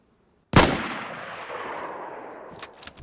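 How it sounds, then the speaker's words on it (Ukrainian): A single loud gunshot from a firearm in the video game DayZ cracks out sharply after half a second of silence, then rolls into a long fading echo tail, with faint clicks near the end. "Якби я знав, чим мені обернеться цей постріл, я б його не робив."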